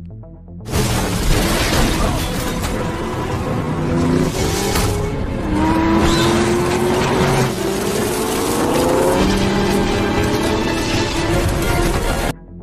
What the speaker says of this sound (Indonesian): aksi kejar-kejaran mobil sport tidak dapat lagi dihindari